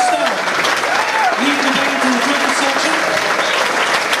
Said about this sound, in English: how about a big hand of applause for this wonderful all-star band